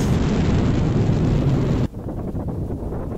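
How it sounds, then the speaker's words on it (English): A rocket lifts off in a short space film: a loud, dense, continuous roar that drops suddenly partway through into a softer rumbling rush. "5, 4, 3, 2, 1, liftoff."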